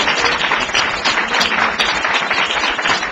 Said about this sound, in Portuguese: Você pode aplaudir o Senhor mais uma vez aí,